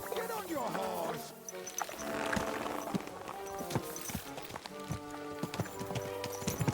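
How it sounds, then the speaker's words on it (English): Horse hooves galloping in Kingdom Come: Deliverance II, a steady rhythmic clip-clop that runs throughout beneath background music and characters talking. "Get on your horse."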